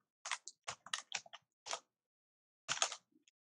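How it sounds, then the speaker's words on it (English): Rapid bursts of typing on a computer keyboard, several quick clusters of keystrokes close up and alone, with a brief pause before a final flurry. "Now let's say I'm a mad typer."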